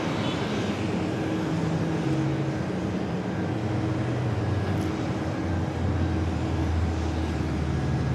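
A Lufthansa Airbus A380 airliner takes off at JFK airport in New York, a distant, continuous jet engine roar with a low droning hum that holds steady throughout, with no talk.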